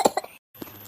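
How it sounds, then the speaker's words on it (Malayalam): A small child gives two or three short, harsh coughs after swallowing a rambutan fruit, then a brief pause and a fainter final cough, heard close by. "ഈ കൊച്ചിന്റെ ചുമ കണ്ടോ?"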